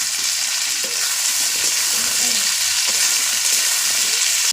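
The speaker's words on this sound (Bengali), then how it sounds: "পেঁয়াজের সঙ্গে হালকা আলুগুলো ভাজা হয়ে যাবে।" Potatoes fry with onion in a pan, making a loud, continuous close-up sizzle with soft scraping stirs throughout.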